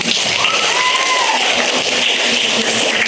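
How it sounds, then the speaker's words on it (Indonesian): Classroom of middle-school students clapping for a group that answered correctly, a steady, dense patter of many hands lasting throughout without pause. "kasih tepuk tangan"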